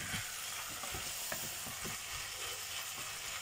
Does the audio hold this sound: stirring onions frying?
yes